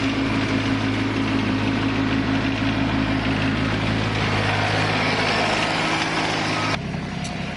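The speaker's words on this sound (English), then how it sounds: "get the tractor out" Tractor engine idling near a barn on a backyard golf-hole project, a loud steady mechanical drone with a low, even throb, running continuously before a slight drop near the end.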